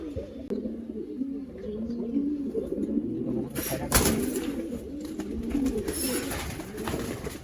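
Male pigeons in a loft coo repeatedly in low, rolling throaty phrases, several birds overlapping close by, with occasional clatter and brief rustling of wings and faint background noise.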